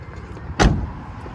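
The rear door of a 2018 Toyota Hiace Commuter van shuts with a single solid thud, close by, against a quiet background.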